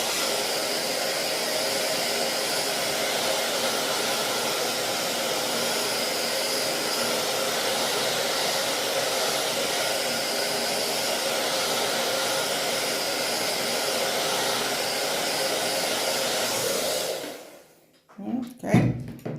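A hair dryer blows steadily and loudly over a watercolour painting of birch trees for about seventeen seconds, then switches off, followed by brief handling noises.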